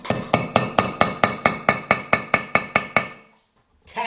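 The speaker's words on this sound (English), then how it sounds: "Take a hammer or something." Fourteen sharp metallic hammer taps driving a screw extractor into a bolt hole during Honda head gasket repair, in a steady, even rhythm, close and loud, then a pause before one more strike begins.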